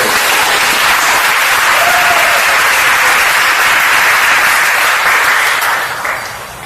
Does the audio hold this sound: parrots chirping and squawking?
no